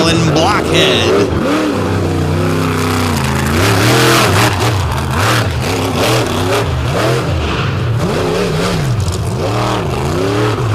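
At the 2024 Indy Jamboree, the Blockhead monster truck on an Eddie Micah-built chassis roars and revs hard, its engine pitch rising and falling in loud sweeps, with an announcer talking over it.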